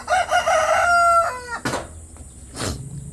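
A rooster in a simple hut-style broiler chicken coop crows loudly and close, a drawn-out call followed by two sharp knocks or clatters in the quiet pen.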